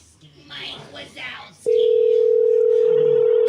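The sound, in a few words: telephone ringing during a prank phone call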